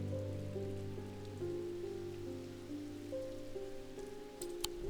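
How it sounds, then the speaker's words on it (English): Rain in the Strange Antiquities video game, a soft steady patter under a quiet sustained musical drone, faint and continuous with a few brighter drops near the end. "It is raining."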